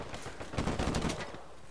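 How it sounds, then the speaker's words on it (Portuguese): Rapid bursts of automatic gunfire from an Uncharted 4 multiplayer match, a dense rattling volley peaking in the middle of the stretch and then thinning out, with no talk over it. "Eu tô dando tiro no bagulho"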